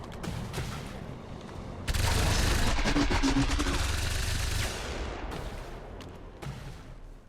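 Dense rapid gunfire from XCOM 2 combat: a loud sustained fusillade of automatic shots with booming impacts for several seconds, tailing off into scattered bursts and mechanical clatter, with game sounds continuing underneath.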